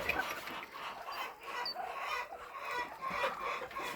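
Cochin chickens clucking steadily at close range, overlapping busy calls with a few sharper squawks, no talking.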